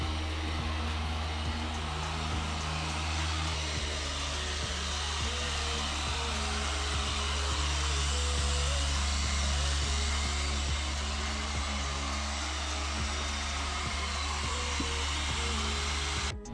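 Steady, loud whirring drone of a power polisher buffing the driver's side exhaust tip on an Acura TSX, running continuously without pause.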